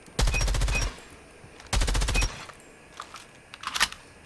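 An M13 rifle in COD Mobile fires two rapid bursts of automatic gunfire, then clicks and clacks through a short reload. The shots are loud and crisp and the reload is quieter.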